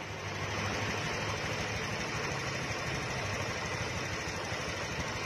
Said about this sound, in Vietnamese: đang nổ máy ở đây